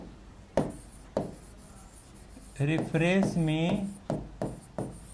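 Marker or chalk writing on a board during a computer class, a few sharp strokes and scrapes at irregular intervals, with someone speaking Hindi over part of it.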